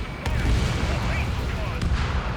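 Anti-aircraft fire in the video game Ace Combat 7, a dense, loud low rumble of booming bursts with a couple of sharper cracks, carried under radio-style voices.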